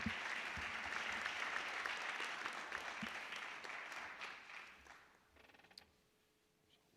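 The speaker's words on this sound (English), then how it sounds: "Let's hear a big round of applause one more time for the 2004 State Baseball" A large audience applauds the 2004 state baseball championship team at a school hall of honor ceremony, sustained clapping that fades out near the end, followed by a few scattered claps and a quiet room.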